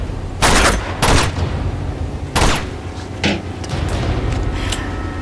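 Enemy gunfire in the video game Uncharted 2, with loud irregular bursts of shots and booms over a constant rumbling background.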